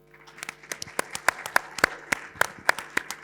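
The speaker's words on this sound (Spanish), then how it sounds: "le damos un aplauso." Sparse audience applause at a community discussion gathering, a small number of distinct, fairly close claps in an irregular rhythm over a faint steady hum.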